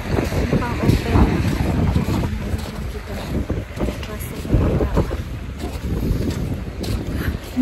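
Strong wind buffets the microphone outdoors in Russia in sub-zero cold, a constant rough low roar with gusty swells, while a voice speaks faintly underneath.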